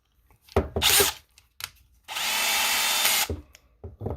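A DEWALT 20V MAX XR brushless cordless drill driver (DCD800) whirs in a sustained burst of about a second, between short clicks and handling noises close by.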